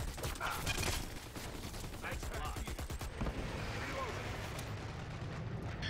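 Machine gun fire in a competitive team shooter match, rapid bursts of gunshots and booming impacts in the first half, then a rumbling game soundscape with a commentator talking over it.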